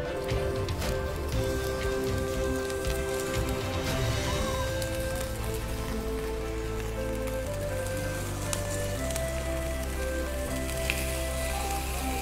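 Chicken pieces hitting a very hot wok for browning, a dense, steady sizzle and crackle of hot oil that continues loud and unbroken throughout, with no voices.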